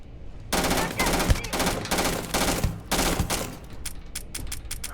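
Gunfire in the video game Starfield: rapid automatic bursts of loud, close shots in several volleys, ending in a few sparse clicks as the ammunition runs out.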